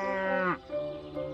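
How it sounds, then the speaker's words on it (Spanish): A cow gives a single loud, drawn-out moo up close that falls in pitch at the end, followed by a softer tail of the call, with no talk. "vaca."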